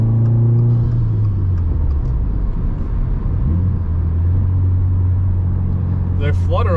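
A turbocharged car's engine drones steadily from inside the cabin, then near the end comes a brief, rapid fluttering burst from the blow-off valve or wastegate.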